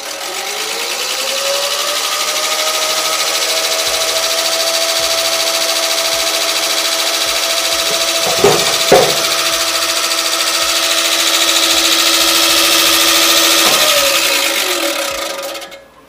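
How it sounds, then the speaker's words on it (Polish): An electric Swardman reel mower with a six-blade cutting cylinder spins up and runs steadily and quietly, a smooth mechanical whir with a sustained tone that holds evenly, two brief knocks midway, before winding down at the end. "I teraz załączymy sobie nasze wrzeciono."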